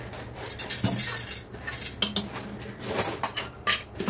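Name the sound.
spoon mixing dal with water, oil and turmeric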